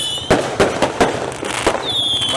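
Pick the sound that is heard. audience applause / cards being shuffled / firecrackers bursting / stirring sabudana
firecrackers bursting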